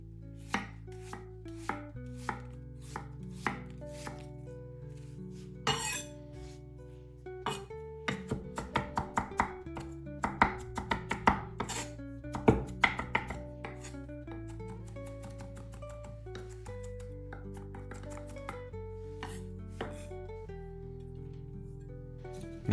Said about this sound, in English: I'm going to start by chopping up a small onion, then I'm going to mince it up as fine as I can.